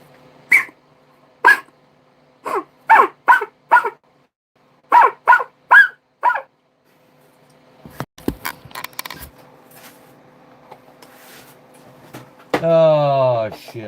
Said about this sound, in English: I hear a baby coyote out there barking.